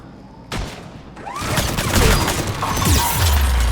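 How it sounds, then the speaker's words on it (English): An enemy turret in the video game Mass Effect 3 opens fire, a sudden loud burst followed by sustained rapid gunfire and metallic impacts rattling close by. "Oh, there's the turret."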